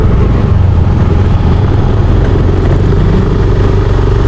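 A motorcycle engine drones loud and steady while riding on a rural road near Calauan, Laguna, with continuous low rumble and wind buffeting the camera, no talk.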